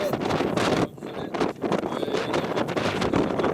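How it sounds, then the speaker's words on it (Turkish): Gusty wind buffeting the microphone in rough bursts at an outdoor council meeting in an ancient city, with a brief lull partway through, loud and close throughout. "Bayağı da rüzgarlı oldu."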